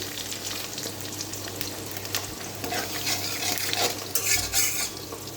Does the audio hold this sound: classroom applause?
no